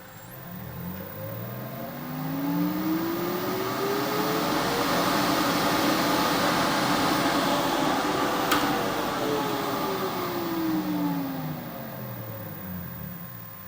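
Harrison universal mill motor spinning up to full speed, a steady rising whine that holds near and loud, then winds back down toward the end, with no talk.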